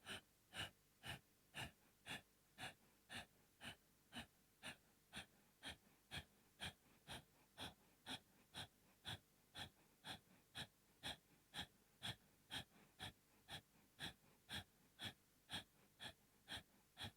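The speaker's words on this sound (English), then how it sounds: "Sharp exhales, Kapalabhati breathing." Kapalabhati yoga breathing: sharp, rapid exhales forced through the nose, dozens of evenly spaced puffs in a steady quick rhythm, close and alone without talk.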